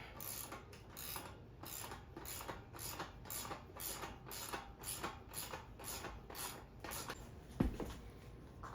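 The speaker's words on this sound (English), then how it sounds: "I'm gonna use 2 wrenches." Two wrenches tighten a 14 mm bolt on a GoPowerSports Maverick 98 mini bike kit, giving a steady run of close ratcheting clicks at an even, quick rhythm for several seconds, ending with one sharper knock.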